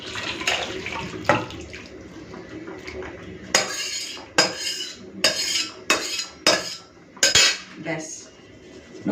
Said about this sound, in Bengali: এখন আমি ঢেলে ফেলবো এই যে বন্ধুরা দেখুন কালারটা কি সুন্দর এসেছে চলুন ঢেলে নিচ্ছি